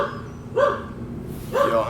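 Dogs barking nearby, two separate sharp barks under a faint background murmur.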